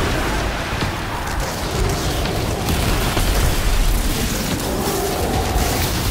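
Continuous, dense rumble of repeated rocket launcher explosions in Destiny 2: The Witch Queen, booming blasts overlapping at close range and steady loudness throughout, with no talk.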